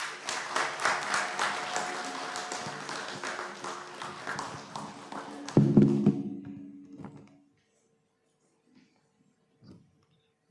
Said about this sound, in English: May we give him another round of applause?